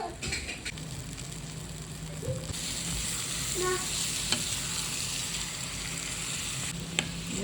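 Chicken frying in spicy masala, a steady sizzle with scraping stirs of a utensil in the pan, the frying growing louder midway and a couple of sharp clinks near the end.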